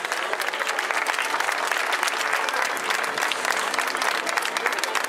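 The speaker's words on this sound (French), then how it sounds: "On peut applaudir Mélodie Le Sueur" Sustained applause from an audience at a podium ceremony for a cycling time trial in Les Herbiers, steady and dense clapping throughout with no speech over it.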